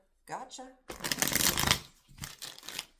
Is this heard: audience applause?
no